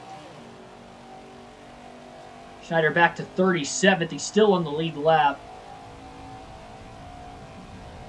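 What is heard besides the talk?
pack of race cars racing by, NASCAR 21 video game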